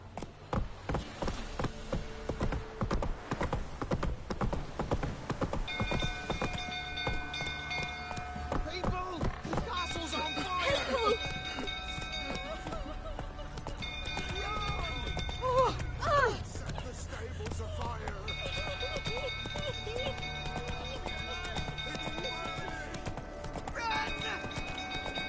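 Roach the horse galloping in The Witcher 3: Wild Hunt, a steady rhythmic clip-clop of hooves throughout, with occasional snorts and a voice speaking briefly over game music.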